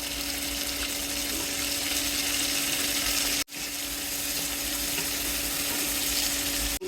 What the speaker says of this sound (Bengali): পেঁয়াজটা ভেজে নেব, আলু দিয়ে ভেজে নেব।